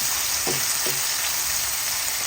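Tomato pieces hit a pan of onion, garlic and ginger sautéing for ginisang buto ng sitaw, giving a steady loud sizzle with two quick stir-scrape bursts near the start.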